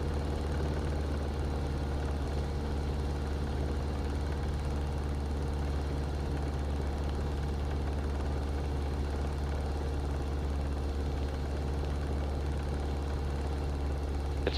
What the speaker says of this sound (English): It's a military helicopter,